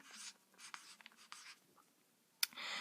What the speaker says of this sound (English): So on the first one I'm going to write John 3:16.